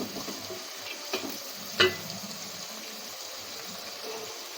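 Onions fry for biryani with a steady hiss of sizzling oil, broken by a couple of spoon knocks and stirring scrapes, close by and with no talking.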